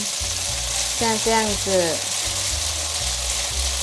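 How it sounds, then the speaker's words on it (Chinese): Strips of dried tofu pan-frying in oil, giving a steady close sizzle with light scraping as they are spread out, while a voice speaks briefly in the middle. "每一条豆干丝都沾到油了，这时候可以把它推平均，让它慢慢的煎"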